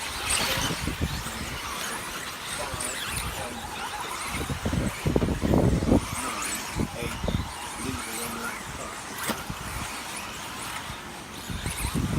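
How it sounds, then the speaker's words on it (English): 4WD radio-controlled race cars on a track at the 2018 Triple A finals, a high whining buzz of electric motors sweeping past with squealing tyres, heard under continuous race commentary. "So Orlowski onto the straight now, pulling away from Van Helmen"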